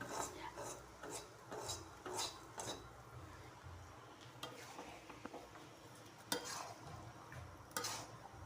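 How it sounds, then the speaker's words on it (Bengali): Pickle is stirred into hot oil in a pan, giving faint, steady scraping and stirring strokes over a soft frying sizzle, with no talk. "এখন আমার তেলের সাথে যেন আচারটা ভালো হয়, মিলেমিশে যায়, সে চেষ্টা করব।"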